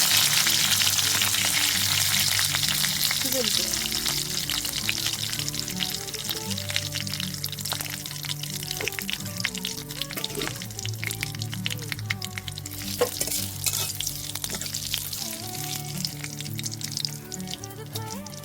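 Ingredients with curry leaves fry in a pan for Bengali chirer pulao, a loud sizzling burst that settles into steady crackling with scattered pops and light stirring scrapes, close with no voices.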